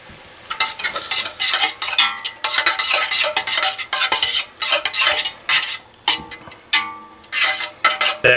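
Minced garlic sizzles in melted butter in a pot for one-pot taco pasta, under repeated loud clinking scrapes of a utensil stirring against the metal in an uneven rhythm.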